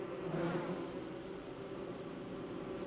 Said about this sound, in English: that is a whole lot of bees in one area